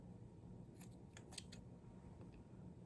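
Scissors snipping through a bald cap during a makeup application, a few quick soft cuts in the middle of a quiet stretch with steady low background hum.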